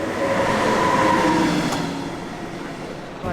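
A local train in Germany rumbles past close by, a steady broadband roar of wheels and carriages that swells slightly and then eases off over a few seconds, with no voices.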